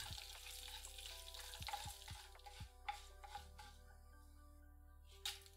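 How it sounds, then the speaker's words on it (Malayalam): Urad dal frying in coconut oil in a pan, with a steady soft sizzle beneath several sharp clinks and scrapes of a spoon stirring against the metal, heard close with no one talking. "1 ടേബിൾ സ്പൂൺ ഉഴുന്നുപരിപ്പും ഇട്ട് മൂപ്പിച്ച ശേഷം"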